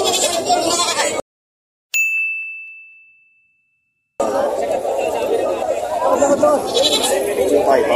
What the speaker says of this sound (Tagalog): binibenta dito mga kambing